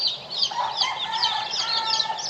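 Roosters at a gamefowl farm raising fighting cocks, a chorus of overlapping clucks and crowing calls, fairly near and continuous, with no talk over it.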